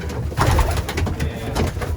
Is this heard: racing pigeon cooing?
yes